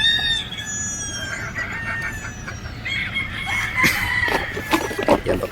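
Battle stag chickens on a game farm in Batangas cluck and crow. Several roosters call at moderate distance, their crows overlapping with scattered clucking, and no one speaks.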